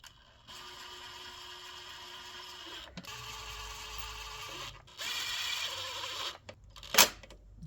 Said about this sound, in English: so I still use the lowest strength on my drill